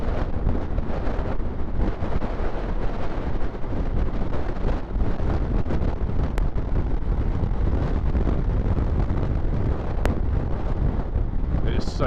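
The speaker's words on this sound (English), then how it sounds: "It is so windy." Strong, constant wind buffeting the microphone during a ride on a Honda Africa Twin motorcycle over moorland, a loud low roar with gusty surges throughout and no clear speech.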